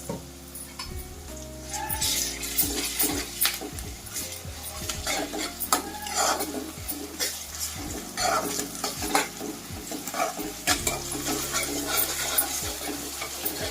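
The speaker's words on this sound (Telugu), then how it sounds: "ఇందులోనే సరిపడా అల్లం వెల్లుల్లి పేస్ట్ వేసి వేయించుకుందామండి ఉల్లిపాయలతో పాటు" Sliced onions frying with ginger garlic paste in a pan for spicy prawn masala, a steady close sizzle broken by frequent spatula scrapes and metallic clinks, with no voices.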